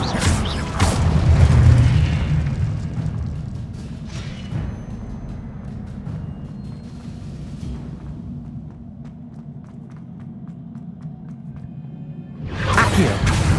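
Spell impacts and whooshes from Hogwarts Legacy: a booming blast at the start, a sustained rumbling whoosh through the middle with faint ticking, then another burst at the end.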